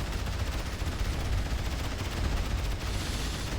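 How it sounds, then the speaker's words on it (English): Dense, rapid gunfire crackles continuously with booming low thumps in a real-time strategy game battle, loud and unbroken for the whole stretch without any talking. "I heard gunshots."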